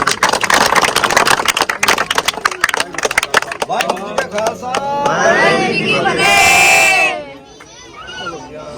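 A crowd at a birthday celebration claps in a dense, loud burst that thins out after a few seconds, giving way to cheering voices and chatter.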